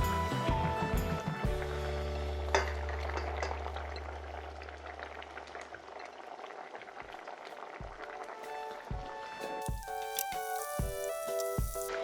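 A pot of braised Spanish mackerel with vegetables bubbles and sizzles steadily at close range, a continuous simmering hiss with occasional clinks of utensils near the end.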